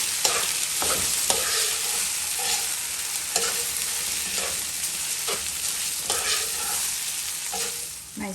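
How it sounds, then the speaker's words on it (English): Rice parching in hot oil in a pan on a stove at medium-high heat for chicken fried rice, a steady close sizzle broken by repeated scraping strokes of a spoon stirring it. "Now we're going to turn this to make sure that the rice is parching"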